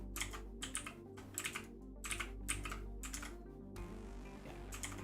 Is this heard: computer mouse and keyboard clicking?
yes